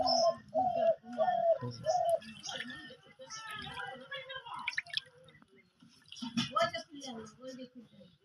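A few soft, repeated bird coos at the start, then chirping and voices talking over scattered clatter.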